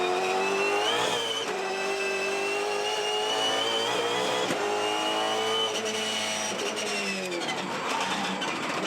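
Supercars race cars scream around the Tasmania SuperSprint track, high-revving engines rising and falling in pitch as cars pass, with a sharp burst midway and a steady loud roar throughout.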